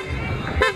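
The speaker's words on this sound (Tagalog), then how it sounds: "Tapos ito yung busina." A Honda ADV scooter's upgraded horn gives a short, loud toot close by.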